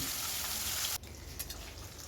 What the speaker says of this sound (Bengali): লবণ হলুদ মাখিয়ে রাখা মাছগুলো একটা একটা করে গরম তেলের মধ্যে দিয়ে দিচ্ছি